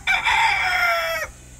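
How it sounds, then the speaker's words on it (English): A rooster crows once, loud and close, with a long drawn-out call that falls slightly in pitch before breaking off, and a quiet background afterward. "We got two roosters. They were also given to us as a gift."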